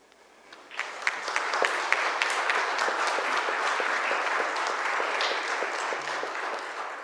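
A congregation at a Sunday spiritual gathering gives warm, steady applause that swells quickly and holds evenly throughout, moderately distant.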